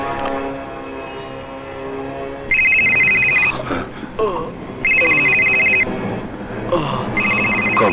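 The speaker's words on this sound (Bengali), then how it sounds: "কমিশনারের ফোন" A telephone rings with an electronic warble in repeated bursts, the call coming from the commissioner. Tense music plays underneath the ringing.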